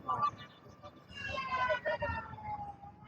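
A fire truck siren (damkar) passes on a city street in Indonesia, wailing at moderate distance behind people talking during an outdoor podcast.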